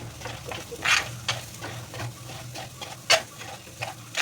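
Coriander powder sautés in a pan for an Alappuzha fish curry, with a steady close sizzle broken by irregular scraping stirs and a faint low hum underneath and no talking.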